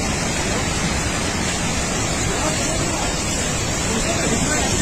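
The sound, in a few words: heavy rain and swollen river after a cloudburst in Dharamshala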